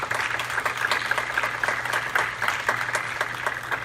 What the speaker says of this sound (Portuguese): eu gostaria mais uma vez de pedir uma salva de palmas para o professor Cláudio e para o professor Pedro